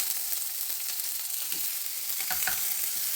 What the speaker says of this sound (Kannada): ಇವಾಗ ನಾನು ಇದಕ್ಕೆ ಬಟರ್ ಹಾಕ್ಕೊಳ್ತಾ ಇದ್ದೀನಿ.